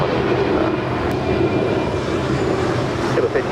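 An airliner takes off from runway 25 right at LAX, its engines giving a loud, continuous roar that holds steady throughout.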